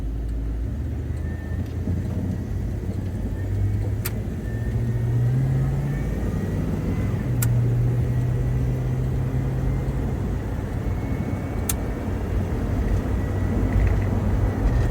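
Interior ride in a 1987 Jeep Grand Wagoneer with a freshly rebuilt transmission: a steady low engine and road rumble fills the cabin, rising slightly through smooth shifts, with a few faint clicks.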